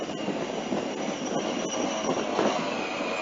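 An old tractor's Continental Z134 little four-cylinder engine runs steadily nearby, a continuous rough mechanical drone with a few faint clicks and no voices.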